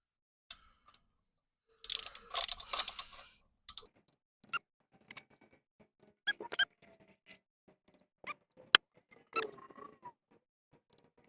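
Torque wrench clicks and metallic ticks while the bolts of a Holley intake manifold on a Blazer are tightened, with scattered sharp clicks and light rattles amid quiet gaps, close and fairly loud.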